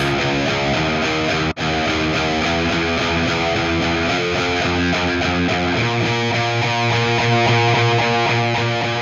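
A heavily distorted electric guitar through a famous high-gain amp plays dense, sustained power chords with a roomy reverb tail, loud and continuous, with no voices.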